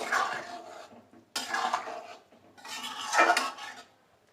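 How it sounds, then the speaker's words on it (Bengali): A lid lifted from a pot of country chicken curry with ash gourd, followed by stirring: three separate bursts of metallic clatter and scraping, close and fairly quiet, with brief pauses between. "ঢাকনাটা উঠিয়ে আমি একটু নেড়ে দেব।"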